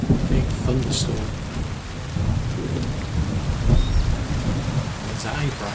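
A heavy thunderstorm in the video game Kingdom Come Deliverance 2: steady dense rain hisses throughout while low thunder rumbles roll underneath, loud and enveloping, with no talking.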